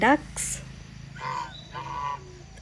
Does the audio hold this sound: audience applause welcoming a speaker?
no